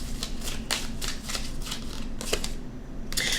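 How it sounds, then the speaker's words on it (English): Tarot cards are shuffled by hand in a steady run of riffling, flapping bursts, close and continuous, with a brief sharper flurry near the end. "Let's pull some more cards"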